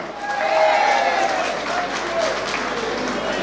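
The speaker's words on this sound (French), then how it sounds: "Nous commençons par applaudir très très fort monsieur Henri Soudoyen." Crowd at an anniversary party for a DJ applauding and cheering, with sustained clapping and voices mixed in over a busy room.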